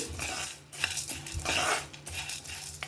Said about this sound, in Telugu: మీడియం ఫ్లేమ్లో పెట్టుకొని బాగా ఫ్రై చేసుకోవాలి